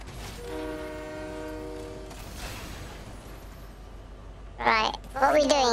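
A train in the Fortnite video game sounds its horn in a sustained harmonic tone, followed by rumbling rail noise, before people begin talking loudly nearby.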